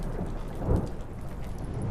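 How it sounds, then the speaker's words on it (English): Thunderstorm with steady rain at sea in The Witcher 3: Wild Hunt, Hearts of Stone, heard as a dense wash of rainfall with a deep thunder rumble swelling briefly near the middle, no voices. "Didn't bargain for no storm."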